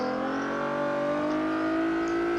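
A race car revs and accelerates in the video game Forza 7, a loud, steady engine drone rising in pitch as it pulls out of a tight corner.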